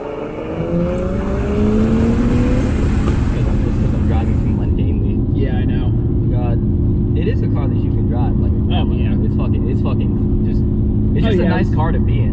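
A Nissan Skyline GT-T's engine drones steadily and loud from inside the cabin, rising as the car accelerates out of a corner, while people talk over it throughout.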